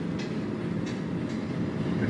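A WDM3 diesel locomotive train rumbles steadily in a train simulator video game (MSTS/Open Rail), with a continuous low rolling drone and faint rhythmic clacks, loud and close with no voices.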